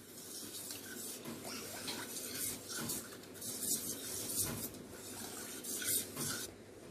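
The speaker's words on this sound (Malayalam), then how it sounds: "മൂന്നും കൂടെ നന്നായിട്ടൊന്ന് മിക്സ് ചെയ്തെടുക്കണം." Three milks being mixed together in a bowl for a tres leches cake, a faint, continuous sloshing and scraping stir with no talking.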